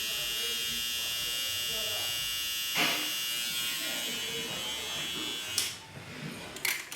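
Electric hair clippers buzz steadily at close range while shaping a receding hairline during a fade haircut, a constant motor whine that briefly rises and dips as the blade meets hair, with someone talking over it.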